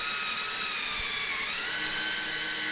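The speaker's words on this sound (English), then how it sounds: "this drill bit I'm using here is very speedy. It's called a Speed Bore" A drill fitted with a Speed Bore bit bores holes in wood for a dance pad build, a steady high whine running continuously at close range with no talk.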